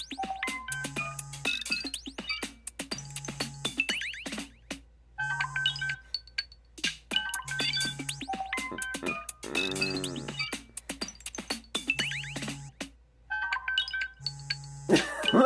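A phone's ringtone plays repeatedly through an incoming call, a looping chiming melody with regular short beeps, recurring in bursts with brief gaps, fairly loud and close, with no talking over it.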